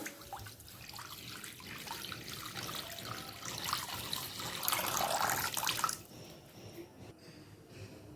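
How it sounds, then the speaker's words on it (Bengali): Water is poured into a pan on a gas stove for steaming prawns, a steady splashing pour that swells louder before cutting off, leaving faint room noise. "আমি আরও খানিকটা জল দিয়ে দিলাম"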